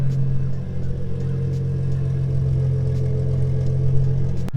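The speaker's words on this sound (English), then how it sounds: "the exhaust never gets old" Deep, steady exhaust rumble from an idling Infiniti G35, loud and close with a constant low drone throughout and no talking.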